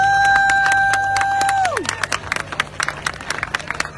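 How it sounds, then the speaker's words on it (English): Outdoor crowd at an MS Walk charity event claps and cheers in a lively round of applause, close and fairly loud, with a sustained electronic tone sliding downward at the start. "Let me get a round of applause."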